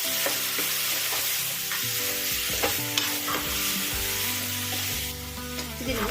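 Chillies and spices for tapioca biryani sizzle in a hot pan while being stirred well, a loud, close, steady frying hiss broken by repeated scraping and knocks of a spatula against the metal.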